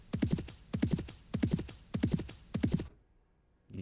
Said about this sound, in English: You can hear that horse galloping.